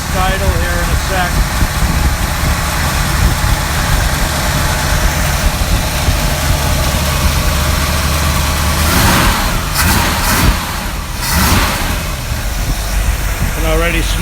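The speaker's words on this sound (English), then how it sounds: "Go ahead and kick down the fast idle here in a sec." The engine of a 1955 Chevy truck idles in a loud, steady, rumbling drone that fills the whole stretch, running at a fast idle.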